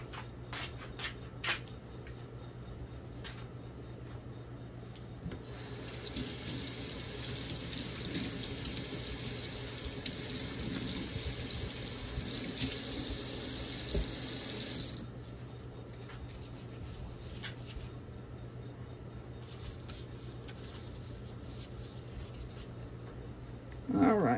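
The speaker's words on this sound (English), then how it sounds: "Let me wash my hands so I can start trying to mold this." Hands washed under a running kitchen tap while preparing vegan crab cakes, a steady hiss of flowing water in the middle of the stretch, bracketed by soft handling noises before and after.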